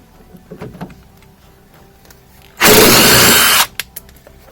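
A power tool spins off a 17 mm nut on a BMW E30 suspension: one loud, steady whirring burst of about a second, framed by quiet handling clicks and clunks before and after.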